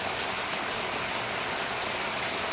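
Steady rain falls without a break, a dense, even hiss of drops spread across the whole stretch with no voices or other sounds.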